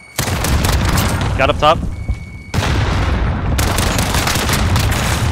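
Heavy bursts of gunfire ring out in a Call of Duty 2v2 Gunfight match, loud close automatic fire in sustained stretches broken by a short pause, with a player speaking briefly between volleys.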